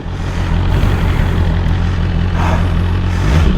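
A 2021 BMW S1000RR motorcycle with a new modification pulling away for a ride, a loud continuous low engine drone close by, steady throughout without speech.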